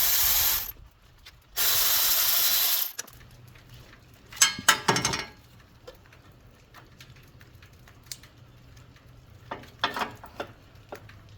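A hand ratchet works loose the valve cover bolts on a John Deere riding mower engine, with short bursts of quick clicking separated by quiet pauses, preceded by two loud rushes of compressed air.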